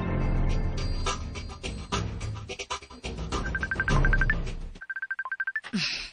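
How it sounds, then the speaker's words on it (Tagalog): A cellphone rings with a repeated electronic chirping tone, entering midway under loud background music and continuing as a rapid pulsing ring on its own once the music cuts out. "Ang akong cellphone."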